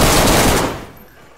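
AK rifle fitted with a drum magazine firing in a video game, a loud, dense burst of rapid automatic shots for most of a second that cuts off abruptly and leaves a fading tail.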